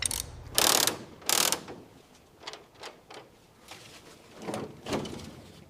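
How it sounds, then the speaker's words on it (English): A torque wrench ratcheting on a cylinder of a 1963 VW Beetle engine under restoration, several close, crisp clicking bursts, two strong ones early and softer, spaced clicks after, with no talk. "Final torque on cylinder 4."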